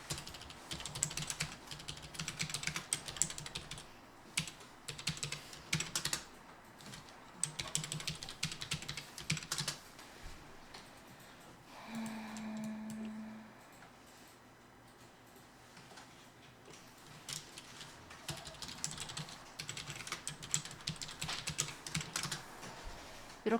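Typing an ID and password on a computer keyboard: quiet, close clusters of rapid key clicks with a short pause midway, soft and steady throughout.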